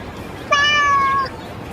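A single drawn-out house cat meow, clear and fairly close, lasting under a second against a quiet background.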